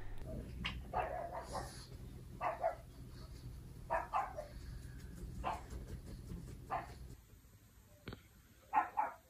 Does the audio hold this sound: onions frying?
no